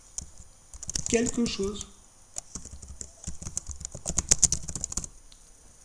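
Fingers type on a computer keyboard, filling a text field with quick irregular bursts of close, crisp key clicks, broken by a short pause. A voice speaks briefly between the keystrokes.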